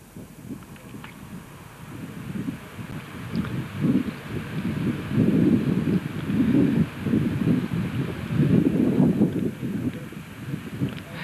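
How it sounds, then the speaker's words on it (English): Raw north wind on a grey day beside a marathon course near the Humber Bridge, buffeting the microphone in loud, gusty low rumbles that swell and fade without pause. "a raw north wind on this rather grey and featureless day"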